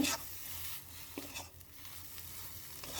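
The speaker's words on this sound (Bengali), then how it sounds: "আমি 30 সেকেন্ডের মতো ধনেপাতা দিয়ে ভেজেছি" Potato filling with coriander leaves fries quietly in a pan for a chenna paratha, a faint even sizzle broken by a few soft stirring scrapes, with no talking.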